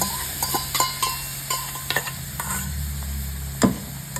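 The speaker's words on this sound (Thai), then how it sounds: "ผัดเขานะคะ ให้กลิ่นมันมีความแห้งลงกว่านี้หน่อย" Broccoli stir-fried with whipping cream in a pan, giving a steady close sizzle with repeated scraping stirs of the utensil against the pan and a sharper clack near the end.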